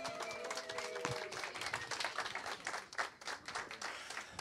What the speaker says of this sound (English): Everyone, round of applause for Moses.